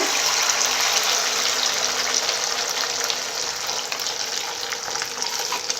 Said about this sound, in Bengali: আলু আর ডিম যে মিশ্রণটা করেছিলাম সেই মিশ্রণটা আমি দেব কড়ার মধ্যে